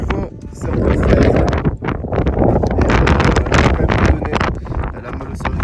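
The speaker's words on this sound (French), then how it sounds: "À cause du vent, c'est un peu frais." Cool wind on a Mexican volcano route batters the microphone with a loud, gusty roar that surges and briefly dips, filling the whole short stretch.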